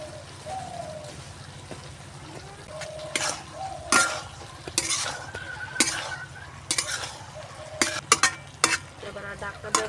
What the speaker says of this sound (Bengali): এবার আর ঢাকনা দেবো না, এইভাবে ভালো করে কষিয়ে নেব